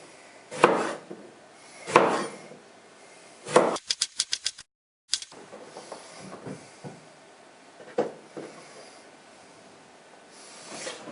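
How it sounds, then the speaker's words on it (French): Knife chopping peeled eggplants into rounds on a board, a handful of sharp separate thunks spaced about a second or more apart, close, with quieter handling sounds between and no talk. "les aubergines sont en rondelles"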